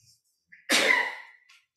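A single sharp sneeze in a church during a worship service, a quick indrawn breath and then a loud, close burst that trails off within about half a second, followed by quiet.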